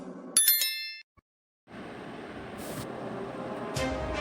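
A bright bell-ring sound effect for a subscribe bell icon rings once, sharp and loud, near the start. It cuts to brief silence and then a steady, rushing background noise.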